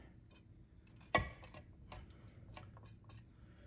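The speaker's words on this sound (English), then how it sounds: "we're going to whisk all of that together" Whisk clicking against a bowl while mixing mayonnaise, milk and buttermilk for ranch dressing, a quick run of close metallic ticks with one sharp louder clack near the start.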